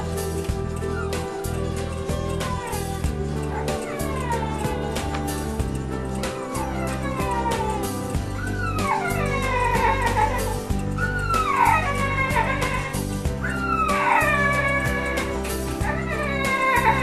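Several small kittens waiting for surgery at an animal hospital meow repeatedly in high, rising cries, close and overlapping, over steady room noise.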